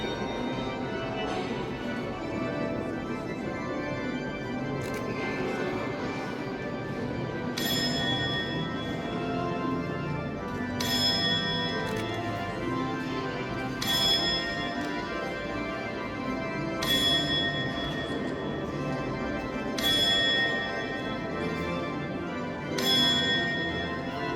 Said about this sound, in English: Death, or the skeleton, is chiming the hour.